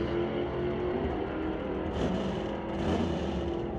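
A 1967 El Camino drag racing in a Super Shifter semi-final, its engine a loud, steady roar that holds throughout with a slight surge near the end, crowded with track noise.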